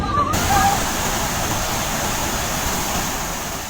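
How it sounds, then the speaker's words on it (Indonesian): A swollen river floods after heavy rain near Padang, and its broad, steady roar of rushing water fills the scene continuously and fairly loud, with a brief faint tone near the start. "Sungai meluap, rumah tergerus"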